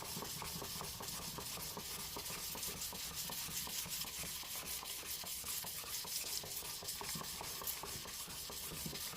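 Steady, rhythmic rasping of a jointer knife stroked back and forth in a jig across a 400 grit sharpening stone, a continuous close scrubbing sound with quick repeated strokes and no voices.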